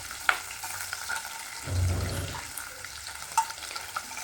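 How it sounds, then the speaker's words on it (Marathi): Paneer cubes frying in ghee in a pan for matar paneer, a soft steady sizzle with brief stirring scrapes and a low rumble swelling midway, close and without talk. "आता याच्यामध्ये पनीरचे जे क्यूब आहे ते छान तळून घ्यायचे आहे लालसर असे।"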